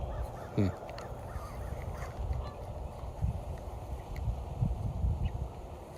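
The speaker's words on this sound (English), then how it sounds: "These birds are over here flapping around." Birds call near a backyard pond, with a few short caws and honks rising over a steady outdoor background of wind and rustling.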